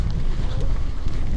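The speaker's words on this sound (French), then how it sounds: "Il y a un peu de vent." Wind blows outdoors and buffets the microphone with a steady, close, low rumble during a short moment.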